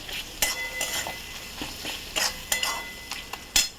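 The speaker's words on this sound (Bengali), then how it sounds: "এগুলো দিয়ে এবার নাড়াচাড়া করবো ভালো করে" A spoon scrapes and stirs ground spices, including coriander powder, frying in a pan for ghugni, irregular clinking strokes over a soft close sizzle.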